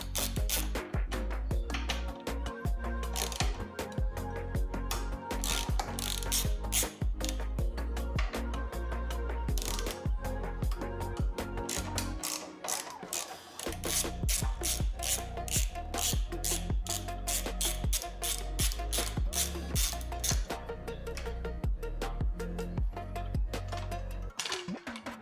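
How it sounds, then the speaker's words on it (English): Ratchet wrench clicking steadily as it backs out the four screws holding the stock top plate on the rear rack of a 2025 Royal Enfield Himalayan, loud and close with dense rapid pawl ticks throughout and a brief pause midway. "The first step is to remove the 4 screws that are holding on the standard top plate."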